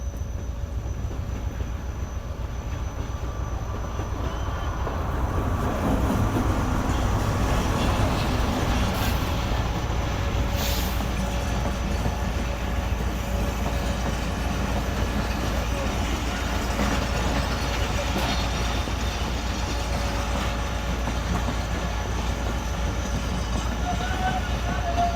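A long passenger train on the Karachi–Sukkur line rumbles past continuously and loudly at close range, with rolling wheel noise and rattling wagons throughout.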